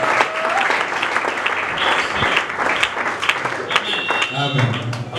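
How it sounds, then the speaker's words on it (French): A church congregation applauds loudly with dense, sustained clapping that fills the whole stretch. Voices and cheers mix in with it. "Honorons l'homme de Dieu en acclamant très fort."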